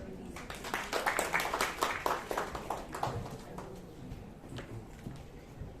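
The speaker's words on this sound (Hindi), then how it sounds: "तालियां मेरे को कम सुनाई दे रही है, जोर से होनी चाहिए ताली" An audience at a women's award ceremony in Karnal claps in a brisk round of applause that swells for a couple of seconds and then thins out, with voices murmuring underneath.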